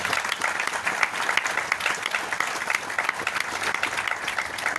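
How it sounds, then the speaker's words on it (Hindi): Loud, dense applause from a large seminar audience in Mumbai rolls on without pause, a thick wash of many hands clapping with no speech over it. "तालियां"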